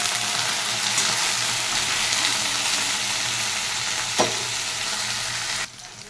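Cut okra frying in oil with nigella seeds and green chili, a dense continuous sizzle close to the pan with a single sharp clack near the end before it quietens.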